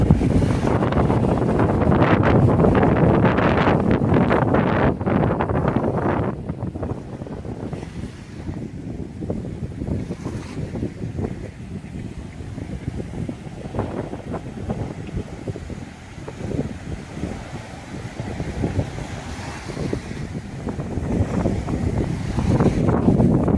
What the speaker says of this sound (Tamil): இன்றைக்கி செம காற்று இருக்கிறதுனால எவ்வளோ அலையாக இருக்குது பாருங்கள்.